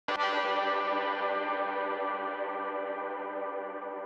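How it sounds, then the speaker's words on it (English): Synthesized tonal hit struck once, a sharp attack that blooms into a long, bright, bell-like tail drenched in heavy reverb, slowly fading with no voices. "we have this tonal hit that I made that has a ton of reverb on it"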